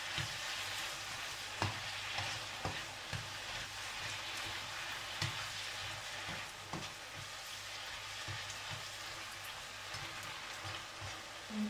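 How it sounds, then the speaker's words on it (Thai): Mushrooms and spaghetti stir-fry in a hot pan, a steady soft sizzle with frequent sharp clicks and taps of the utensil against the pan, fairly quiet and close, with no talking. "ผัดให้เห็ดสลบหน่อยใส่สปาเกตตี้ลง"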